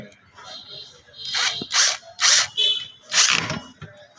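Nuts or screws are tightened on a socket connection during rice cooker repair, giving three rasping tool bursts close up amid quiet handling noise.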